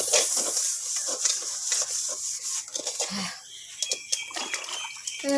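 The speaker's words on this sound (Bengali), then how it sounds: "ধুয়ে নিচ্ছি। এই দেখো বন্ধুরা ধুয়ে নিচ্ছি।" A karahi pan is washed with water: close wet rubbing and scrubbing, splashes and trickles, with a few scattered clinks, irregular and moderately loud.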